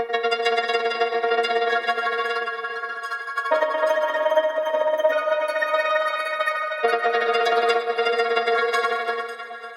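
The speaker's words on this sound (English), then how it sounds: "The next preset is a Camping Night preset, which adds some interesting movement through the grain effect." A Playbox chord preset for Kontakt called Camping Night, played with its grain effect as sustained, shimmering synth chords that change twice, loud and alone with no talking.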